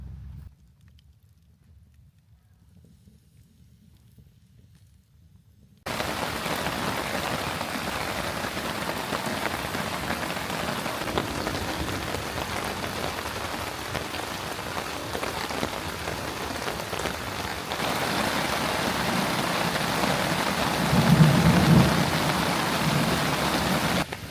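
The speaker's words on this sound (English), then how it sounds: "I hope this storm is amazing." After a few seconds of near silence, heavy rain drums steadily on a hammock tarp at a forest camp at night during a storm, a dense, loud, continuous hiss that swells slightly near the end.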